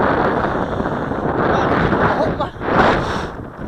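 Strong gusty wind buffeting an outdoor microphone at an RC model plane flying session, a steady loud roar that swells near the end, with no clear speech.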